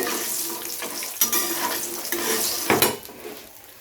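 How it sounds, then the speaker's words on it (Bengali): Lentil dumplings (bori) fry in hot oil in a pan, a continuous crackling sizzle broken by a few sharp clinks and scrapes as they are stirred, close and fairly loud. "বড়িগুলোকে হালকা লাল লাল করে ভেজে নেব"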